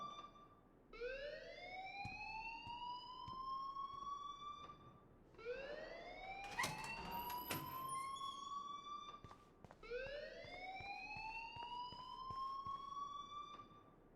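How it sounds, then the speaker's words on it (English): A school fire alarm in the video game Life is Strange wails in three repeating rising sweeps, each holding a steady electronic tone before restarting, fairly distant and quiet, with faint clicks and no talking. "please turn off that alarm since that's your job"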